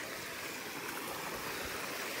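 Feet wade through floodwater covering a road, a continuous broad sloshing and rushing of water, fairly quiet, with no one speaking.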